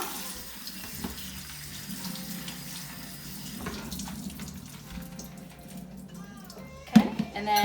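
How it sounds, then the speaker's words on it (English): Cold tap water runs into a kitchen sink as salted cucumbers are rinsed, a steady close splashing hiss with brief clatter near the end. "So, cold water. We're gonna give them a little rinse,"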